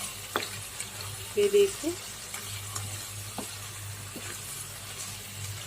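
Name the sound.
spicy chicken fry cooking in a pan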